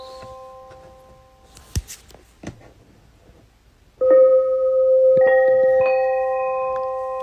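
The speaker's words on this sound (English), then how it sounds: "And your good old bell." A bell from a sleep sound machine rings out after a few faint soft taps, a clear sustained metallic tone with bright overtones that slowly decays, loud and close.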